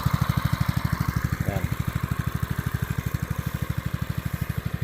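A small engine on a pesticide sprayer runs steadily close by, its even rapid chugging pulse holding constant throughout, after a leaking hose was fixed.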